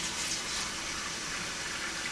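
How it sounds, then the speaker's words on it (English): A kitchen tap runs steadily while dishes are washed, a faint, even hiss of flowing water with no clear splashes or voices. "You can't hear me when the water's running."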